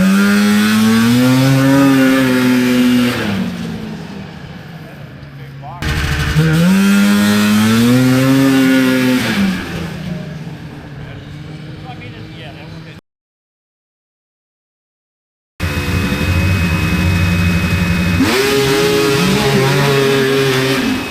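A snowmobile engine on a tuning day revs hard and high, winds down, then revs up again; after a brief silence it returns with more revving, loud and close throughout.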